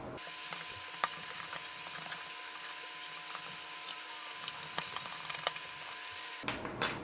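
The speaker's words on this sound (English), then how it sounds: "Next, we're going to remove the support from the bottom of the case by removing those 3 screws." Small screws are backed out of an MSX FD-A1ST floppy drive case, quiet ratcheting clicks and scraping ticks in an irregular rhythm, close up and faint, with no talk.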